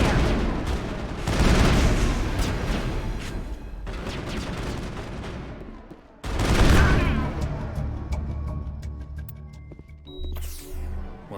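Heavy gunfire in the Mass Effect video game, dense bursts of sustained shooting that pause briefly and then resume loudly, with electronic tones and effects near the end.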